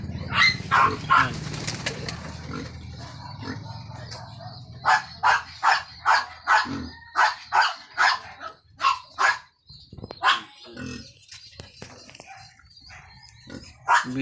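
Pigeons coo in a rapid run of repeated, evenly spaced calls, close by, after a stretch of mixed background noise and movement.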